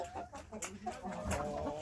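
Faint clucking from crested, feather-footed roosters, a few soft, short calls over a quiet background hum.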